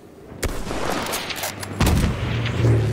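Sniper rifle shots in Battlefield 1 beta gameplay boom repeatedly over a dense backdrop of distant gunfire and battle noise, loud and close, with two strong reports standing out.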